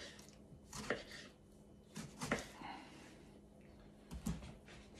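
Knife chopping tomato into cubes on a cutting board, a few separate sharp chops close by over a quiet room background.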